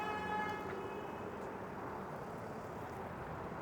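A car horn sounds briefly and faintly in the distance at the start, over a low steady hum of street traffic around St. Clair Avenue West in Toronto's Regal Heights neighbourhood.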